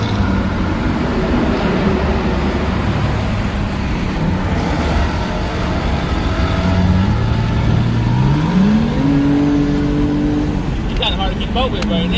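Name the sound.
2016 Ford Mustang GT loud straight-pipe exhaust revving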